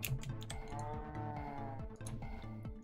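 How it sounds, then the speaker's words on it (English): A cow in the Minecraft FTB modded game lets out a low, sustained moo lasting a few seconds, set against steady in-game background sounds with no talking. "The cow says moo."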